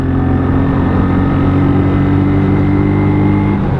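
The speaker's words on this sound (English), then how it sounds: "we're going to have a quick trolley down the A5, get some mileage on the bike" A WK Scrambler 125cc motorcycle runs at a steady drone on an A-road ride, the engine loud and constant with a slight rise in revs and wind rumble throughout, no voices.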